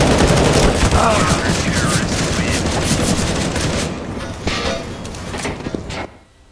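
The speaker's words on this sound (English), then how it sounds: "I'm throwing a flashbang." Rapid, dense gunfire crackles and pops through a CS:GO match as a flashbang is thrown, sustained bursts close and loud before the shooting thins out and cuts to silence; a voice is faintly present.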